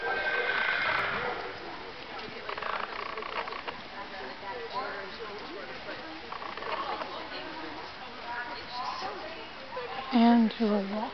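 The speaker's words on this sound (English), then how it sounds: "rising trot on a loose rein," A horse moving at a rising trot on a loose rein during a 4-H road hack class, with hooves and a whinny heard under continuous talk from a commentator.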